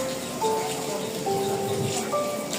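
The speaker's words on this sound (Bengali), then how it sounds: "বৃষ্টির পানি" Steady monsoon rain falls in the hills near Kurseong railway station, Darjeeling, a dense even patter with faint tonal hums drifting over it.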